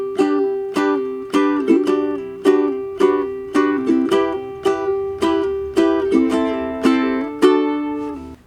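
Ukulele plays the opening line of La Vie En Rose with hammer-on chord pulses, each strum landing in a steady bouncing rhythm of bright, ringing chords, close and clear with no voice.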